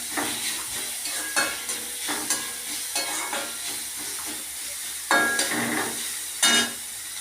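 Garlic and onion frying in a pan as they are stirred, with a continuous sizzle and periodic scraping strokes, a few louder clatters near the end, close up with no voices.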